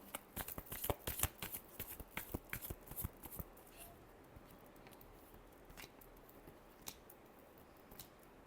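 Tarot cards being shuffled, a quick burst of crisp riffling flutters and slaps for a few seconds, then a few scattered card taps in near silence.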